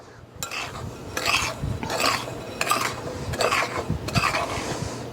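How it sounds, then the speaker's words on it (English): Flour, salt, baking soda and baking powder mixed in a bowl, five or six rhythmic bursts of scraping and rubbing from a utensil working the dry ingredients, close and moderately loud. "I'm going to mix that up just a little bit"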